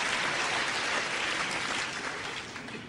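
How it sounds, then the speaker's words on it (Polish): Women in a lecture audience clap together, a dense patter of applause that stays steady, then slowly fades. "Dziewczyny teraz klaszczą."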